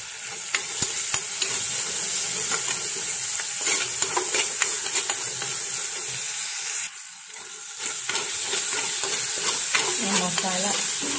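Onion, tomato, ginger-garlic paste and curry leaves fry in a pan with a steady, close sizzle, punctuated by occasional scraping stirs.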